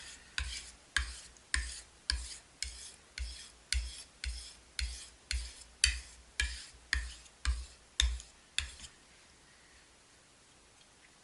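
A knife blade is drawn across a fine whetstone in steady, evenly spaced rasping strokes, about fourteen close, clear scrapes in a regular rhythm, then a quiet pause with no talking.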